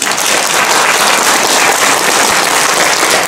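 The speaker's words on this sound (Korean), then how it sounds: "바꾸시겠다는 분만 박수 한번 쳐보세요." Loud, dense audience clapping fills a lecture hall during a special talk at a district office auditorium, a continuous close burst of many hands with no voices over it.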